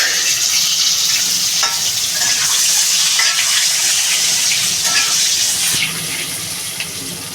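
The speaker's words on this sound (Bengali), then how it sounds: "আলুটা আগে ভালো করে ভেজে নেবো আলুগুলো দিয়ে দেবো" Cut potatoes fry in hot oil in a pan with a loud, continuous sizzle and occasional stirring scrapes, the hiss easing slightly near the end.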